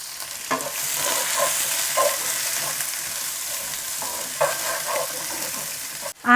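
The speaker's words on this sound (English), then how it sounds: "the onions and cabbage, and then cook this until it softens" Onions and cabbage sizzle steadily in a hot pan for chicken Manchurian, with occasional stirring clinks over a continuous hiss, ending in a sudden louder clatter.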